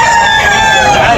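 A rooster crows loudly and close at a Sunday chicken market, one sustained harmonic call lasting over a second.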